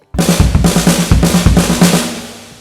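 Fast linear drum kit pattern alternating kick and snare or tom hits in a rapid run, punchy and close, about two and a half seconds long.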